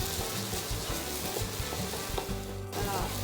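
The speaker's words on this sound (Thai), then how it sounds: "เราก็ผัดให้เส้นเนี่ยอยู่ในน้ำนะคะ เดี๋ยวน้ำจะแห้ง เส้นก็จะสุกพอดีเลยค่ะ" Pad Thai noodles are stir-fried in a little water in a pan, giving a dense, continuous bubbling sizzle with busy clattering and scraping throughout, close and fairly loud, with no talking.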